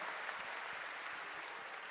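A large audience at a saints' gathering at Maha Kumbh in Prayagraj claps for the saints. The applause is dense, steady and fairly distant, and lasts the whole moment without a break.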